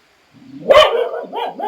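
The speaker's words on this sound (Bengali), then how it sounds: "ডগিটা সমানে চিৎকার করছে" A dog lets out a sharp bark followed by whining, yelping cries, close and loud against a quiet background.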